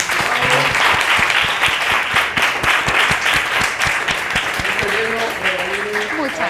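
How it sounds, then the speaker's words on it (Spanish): An audience applauds at the launch of a digital culture study, dense clapping that stays loud and sustained, with a few sharper individual claps and some murmuring voices mixed in toward the end. "darle un aplauso a todos."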